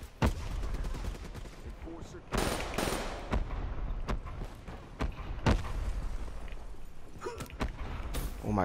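Gunfire in Call of Duty: Black Ops III, with several sharp shots and bursts scattered across the clip, loud and close over a steady game background, with some speech-like sound mixed in.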